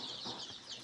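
Desi chicken chicks on a farm, peeping and clucking faintly, a soft, steady chorus of small high calls in a brooding area, with no talking.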